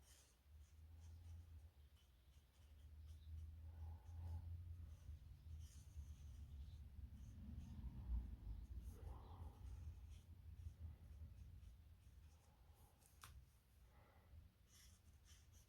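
A marker colours in small white areas on a scrap of patterned cardmaking paper, giving soft, steady scratchy strokes over a low background hum with no talking.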